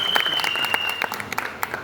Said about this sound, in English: So guys, really a huge round of applause for Monica Shergill,